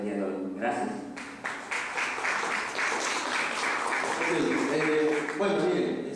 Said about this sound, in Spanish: por favor, un fuertes aplausos al doctor José Julio Montalvo Cifuentes